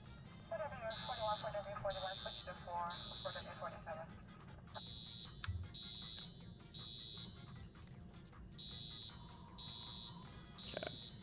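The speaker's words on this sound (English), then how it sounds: "we gotta check the rest of the alarms" Video game fire alarm sounding inside a fire station, a repeating electronic beeping tone in regular bursts at a moderate level, with other game sounds and a voice talking underneath.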